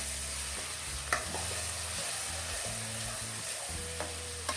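Tomato and mixed vegetables sizzle in oil for upma while being stirred, a steady close frying hiss with a few light utensil clicks against the pan and a low hum underneath, no voices.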